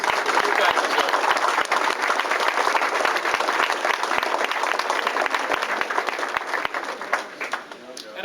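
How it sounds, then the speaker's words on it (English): Audience applause fills a room at a sign company's tenth-anniversary celebration in 2003: dense, steady clapping from a sizeable crowd that runs loud and unbroken for about eight seconds before thinning slightly at the end. "So look around the room and give yourselves a great applause."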